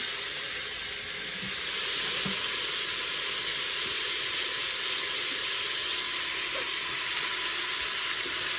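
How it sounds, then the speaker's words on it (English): Peppers and onions for jambalaya sear in a hot pan, giving a steady, close, bright sizzle with faint crackles and no one speaking. "Now see, this is already searing up very nicely."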